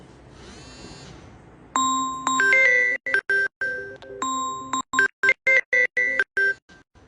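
An electronic phone ringtone plays a bright, chiming melody, starting after a brief rustle and continuing in choppy bursts with short gaps, loud and close.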